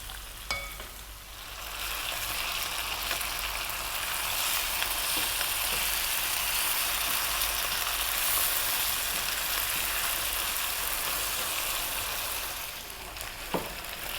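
Chicken curry pieces on the bone frying in a pan of hot oil and being turned, a loud, steady crackling sizzle lasting throughout, with a few clinks from the flipping.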